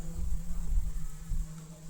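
A steady low hum of many honey bees droning close by at a hive, continuous and even, with no voices.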